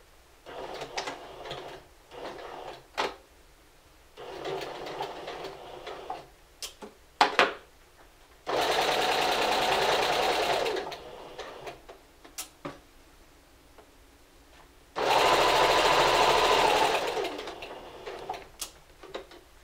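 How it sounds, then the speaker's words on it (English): A sewing machine stitching fabric: short bursts of steady mechanical whirring alternate with clicks and handling taps, two longer sustained runs of stitching standing out clearly in a quiet room. "And let's begin stitching."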